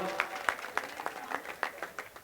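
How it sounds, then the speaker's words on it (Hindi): Faint, scattered hand claps pop at an uneven pace, a small sparse round of applause at an awards and felicitation ceremony, sounding distant and thin. "अध्यक्ष जी का स्वागत सम्मान हम जोरदार तालियों से करें।"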